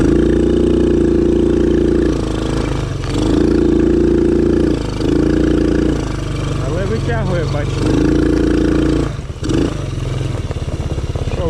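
The small engine of a child's Spark 110 quad bike revs and drops repeatedly, buzzing loudly up close with brief surges as it accelerates, with a voice briefly audible over it.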